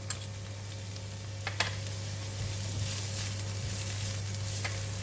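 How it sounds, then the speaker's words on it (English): Garlic and shallots fry in hot cooking oil for a glutinous rice with chicken dish, making a constant close sizzle with a few stirring taps and a low steady hum beneath, no speech. "When oil is hot, I'm going to put in the garlic and shallots."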